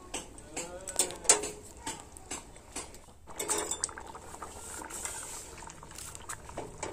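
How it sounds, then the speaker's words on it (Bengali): A pot of snakehead fish and taro curry bubbles softly while a spoon stirs it, clinking and scraping against the pot in irregular bursts. "ভালোভাবে নাড়াচাড়া করে নিতে হবে"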